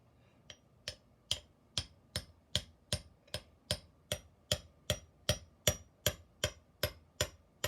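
Regular hammer blows strike a geode to crack it open, about eighteen sharp, evenly spaced knocks in quick rhythm, fairly loud and close with no talking.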